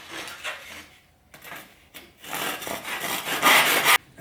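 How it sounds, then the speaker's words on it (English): Hand saw cutting cornice coving square in a mitre box: rapid rasping back-and-forth strokes in several bursts, brief pauses between them, growing louder and busier toward the end before stopping abruptly. "Drop that in the box, and we're going to cut it down square,"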